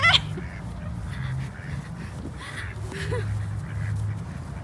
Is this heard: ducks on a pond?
yes